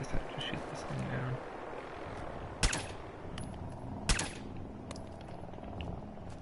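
Gunfire in Fallout 4 as the player shoots at a flying target, with a few sharp loud shots and scattered lighter bursts over a droning engine-like hum, with someone talking over it.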